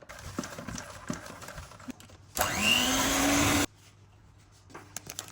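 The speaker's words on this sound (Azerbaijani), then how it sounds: "Mən az xodda mikserlə qarışdıracağım." An electric mixer runs on low speed through cake batter, a steady whirring drone lasting just over a second with a slightly rising pitch, close and loud, then cutting off into quiet kitchen clatter.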